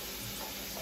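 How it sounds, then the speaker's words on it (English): Pork chops fry in hot grease in a pot, giving a steady, dense sizzle and hiss that holds evenly throughout the short stretch. "I'm frying these pork chops."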